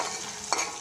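Paneer fries in a pan with a steady sizzle, close and moderately loud, and one brief stirring scrape near the middle.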